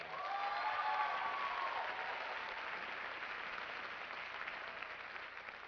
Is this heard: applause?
yes